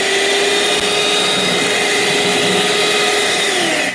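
Four eggs are beaten with powdered sugar using an electric beater, which runs loud and close with a steady motor whine that holds the whole time, with no talking.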